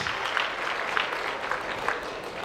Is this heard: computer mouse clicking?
no